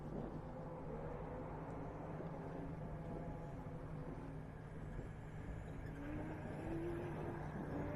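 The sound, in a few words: race cars on the track at The Gap 440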